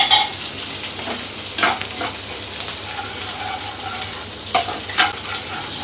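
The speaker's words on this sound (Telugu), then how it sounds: "2 పచ్చిమిర్చి కట్ చేసి వేసేసాను." Cut green chilies frying in a pan for mutton biryani, a loud continuous sizzle with occasional stirring and utensil scrapes against the pan, no voices.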